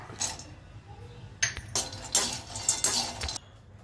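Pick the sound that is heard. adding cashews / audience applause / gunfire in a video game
adding cashews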